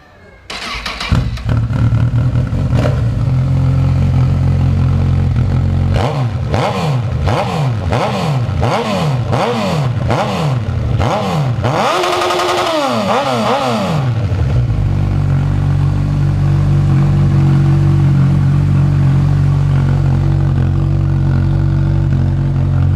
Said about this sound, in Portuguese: o barulhão ficou top, ficou tipo aquelas Hornet com escapamento desmiolado